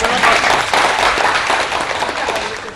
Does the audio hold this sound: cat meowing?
no